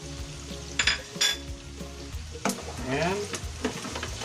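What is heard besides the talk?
stir-frying pork tofu with spring onion in a pan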